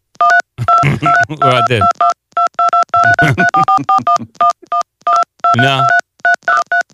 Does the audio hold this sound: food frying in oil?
no